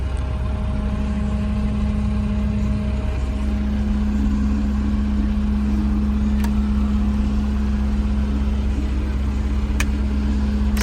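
A 1998 Claas Dominator 48 Spezial combine harvester runs its engine at a loud, steady idle close by, a deep constant rumble with a firm hum and a few faint clicks.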